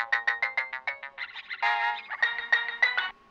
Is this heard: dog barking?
no